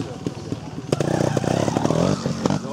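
A motorcycle engine revs hard at a classic cycling race in Ardèche, loud and close with a rising, throbbing roar that swells through the middle, while people talk over it.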